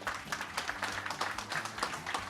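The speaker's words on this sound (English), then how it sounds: "we have given them a big round of applause" A meetup audience at Algolia's venue claps for the host, a fairly quiet patter of separate hand claps at an uneven rhythm over a low background hum.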